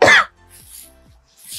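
One sharp cough bursts out close by at the start, then the room falls to faint background noise with a soft rustle near the end.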